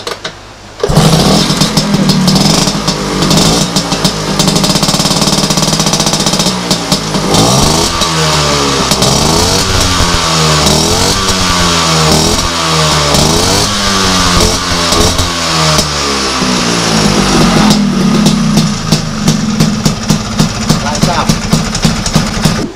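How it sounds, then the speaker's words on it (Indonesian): A modified Vespa scooter engine revs hard again and again, rising and falling in rapid repeated bursts over a rough, loud idle, recorded up close. "Coba suaranya Mas Ipul, karena banyak yang penasaran dengan suara motor ini ya."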